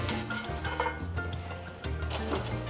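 A Cuban sandwich is flipped and fries in melted butter, giving a close, continuous sizzle with a low rumbling hum beneath and faint scraping of a utensil against the pan.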